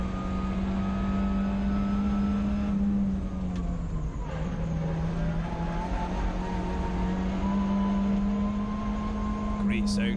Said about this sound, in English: Great sound from that little XR2 with the CVH engine inside that